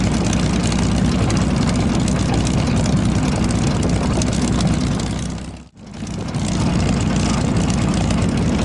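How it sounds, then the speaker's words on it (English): A P-51 World War II fighter taxiing to home base gives a loud, deep, rumbling propeller engine drone. It dips briefly to near silence, then returns at full strength, with no talking. "It's usually a mistake to try and taxi one of these World War II fighters into tight quarters"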